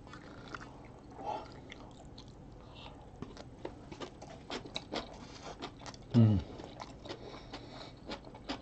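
Chewing bulgogi and kimchi during a mukbang: soft close mouth sounds with one louder bite or crunch partway through, under faint background noise.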